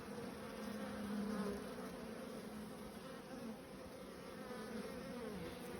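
A colony of Buckfast honey bees gives off a continuous low buzzing, swelling slightly then settling into a constant, quiet hum with no talking.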